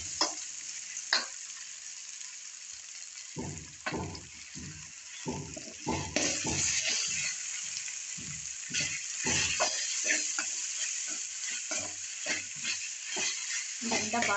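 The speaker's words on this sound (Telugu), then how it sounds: "ఇదంతా బాగా మిక్స్ అయ్యేలాగా కలుపుకోవాలి" Ginger garlic paste being stirred into browned onions in a pan for a country chicken curry: repeated scraping, clattering stirs in an uneven rhythm over a steady background sizzle, close and fairly loud, with no talking.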